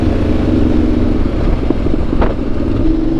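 A Ducati motorcycle, a European bike, running steadily on a road with a continuous low engine rumble throughout, loud and close, with no talking.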